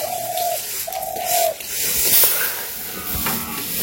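Out in the village on a misty morning, a bird, probably a pigeon or dove, gives two soft cooing calls early on against a faint hiss of background noise.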